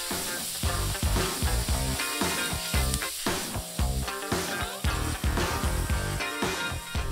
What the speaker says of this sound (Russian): Помешиваем и жарим его примерно пару минут.